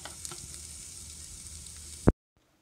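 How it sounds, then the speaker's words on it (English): Onions and garlic sauté in a pan with a continuous close hiss and crackle, a brief clatter near the end before the sound cuts off abruptly. "I'm just going to saute these onions and garlic up and throw that into my"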